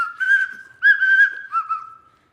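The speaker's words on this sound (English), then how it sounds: "I have a whistle." A handheld whistle sounds in three short bursts, the middle one longest and loudest, close and clear with nothing else heard.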